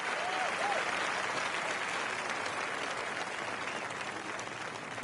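A large golf gallery at the Waste Management Phoenix Open applauds a putt, a loud, dense, sustained wave of clapping that slowly eases and is heard without talk.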